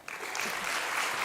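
Brief burst of audience applause welcoming a marketing manager to the stage at an investment conference, rising quickly and holding steady through a large hall.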